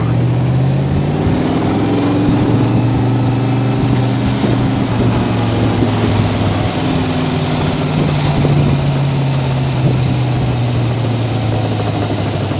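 A 1964 Shelby AC Cobra with its original 289 V8 idles steadily and loudly up close, a deep rumbling drone with slight wavering in pitch, running alone without talk throughout.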